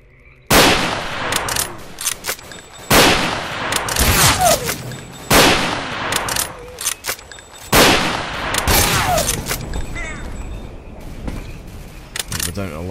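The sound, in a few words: gunfire from video game S.T.A.L.K.E.R.: Call Of Pripyat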